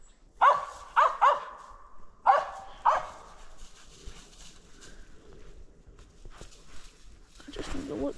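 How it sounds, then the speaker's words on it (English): A hunting dog barks at a squirrel up a tree outdoors, five sharp barks in quick clusters at moderate distance, followed by quieter ambient sounds and faint talk near the end. "when I start filming, he just like lit up barking on that tree right there"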